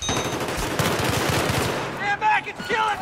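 Rapid automatic gunfire from Battlefield's Operation Metro map rattles in a dense, continuous burst, then gives way to scattered shots and game voice lines, with players talking over the action.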